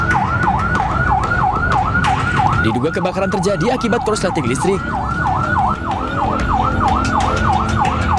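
Fire truck sirens wail continuously at a bakery shop fire in South Tangerang, Banten, with overlapping rising and falling tones, loud and close above engine rumble, while a news narrator speaks over them.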